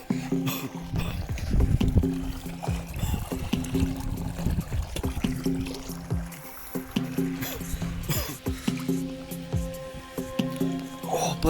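Rainwater bubbling and pouring at night after a torrential thunderstorm, a steady close gurgling and splashing flow with dribbles and squishy bursts running throughout, no voices over it.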